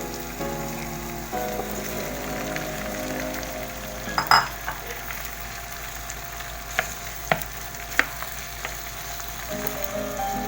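Shrimp frying in a pan for soju drunken shrimp make a soft, steady sizzle, broken by a few sharp clinks and taps of stirring utensils.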